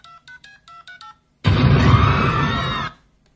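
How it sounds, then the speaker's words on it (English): Telephone keypad tones in a Family Guy cartoon: seven quick, evenly spaced beeps, followed by a loud, harsh burst of noise lasting over a second before silence. "Damn phone's busted. Maybe I dialed wrong."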